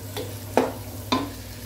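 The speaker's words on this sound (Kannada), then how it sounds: "ಈಗ 2 ಟೊಮೆಟೊ ಕಟ್ ಮಾಡಿದ್ದನ್ನು ಇದಕ್ಕೆ ಹಾಕ್ತೇನೆ" Chopped tomatoes tipped into a frying onion masala for chicken biryani, heard as two distinct scraping stirs of the spatula over a low, steady sizzle in the pan.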